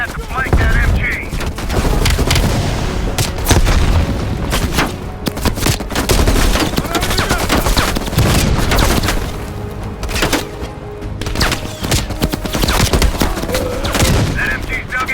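Machine gun fire rattles almost nonstop in a video game battle, mixed with other shots and booms that stay loud and dense the whole time.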